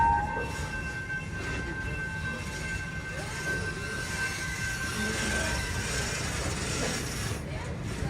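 A train ride at Busch Gardens amusement park, a steady rumbling roll with faint squeals and a few tonal whines, continuous and moderately close throughout.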